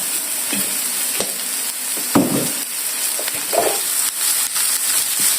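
Sisig frying in a little cooking oil in a pan, a loud continuous close sizzle with occasional stirring scrapes and soft knocks, no voices.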